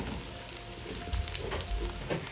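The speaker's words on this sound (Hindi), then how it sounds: "प्याज देखिए गोल्डन नहीं हुआ है, बस हल्का सा सौते हो गया है।" Sliced onions with six or seven curry leaves sautéing in a pan for boondi kadhi, a low, steady sizzle with soft crackles close by and no talking.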